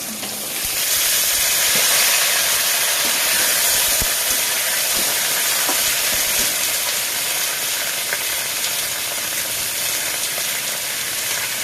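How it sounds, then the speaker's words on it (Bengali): Moringa drumsticks fry in hot oil in a pan, a loud, dense, continuous sizzling hiss that swells after the first second and holds steady, with no voices. "লাল করে ভাজা হয়ে গেছে সজনেটা দিয়ে দিচ্ছি"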